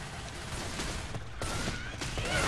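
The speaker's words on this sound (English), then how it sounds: "Who in the hell just shot me?" Dense, continuous gunfire in the zombie shooter Left 4 Dead 2, a steady wash of overlapping shots at moderate volume that builds slightly toward the end.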